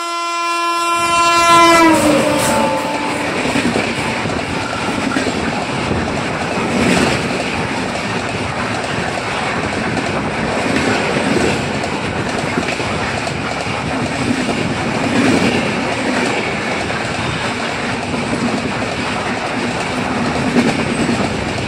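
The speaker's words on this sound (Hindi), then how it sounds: "ये क्रॉस हुई पारसनाथ एक्सप्रेस" The Parasnath Express, a passenger train, passes close by after a short horn blast at the start: a loud, steady rumble of rolling wagons with rhythmic wheel clatter that continues without pause to the end.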